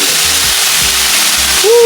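Washed pechay (bok choy) dropped into a hot frying pan, giving a steady, loud broadband sizzle that fills the whole stretch with no break and rises slightly toward the end.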